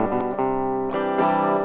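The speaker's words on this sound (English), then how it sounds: "Without all of these, raw guitar sound like this" Unprocessed electric guitar with no effects or reverb, playing sustained chords that ring steadily at moderate loudness with a fresh strum just before the one-second mark, heard alone with no talking.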